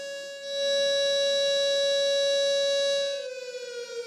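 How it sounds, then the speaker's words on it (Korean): A steady, loud memorial siren holds one high tone for several seconds, then begins to waver and fall, echoing through an airport waiting hall. "공항 대합실에 사이렌이 울려 퍼집니다"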